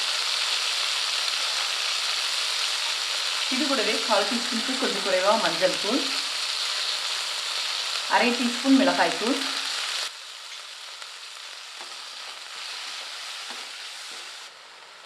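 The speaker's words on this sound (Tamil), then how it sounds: "இது கூட ஒரு தக்காளி பொடியாக நறுக்கி வச்சுருக்கேன் இதை சேர்த்து நல்லா வதக்கி விட்டுக்கலாம்" Tomato sizzling and frying in a pan with garlic and onion, a steady hiss throughout with stirring scrapes in two bursts; someone talks over it.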